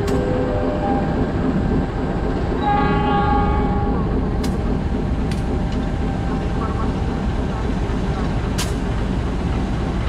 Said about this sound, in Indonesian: Oke, ini lokomotif sudah berjalan